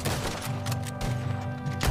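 Gunfire from the Red Dead Redemption II video game, a few sharp repeated shots over a loud, busy backdrop of game noise, with no speech.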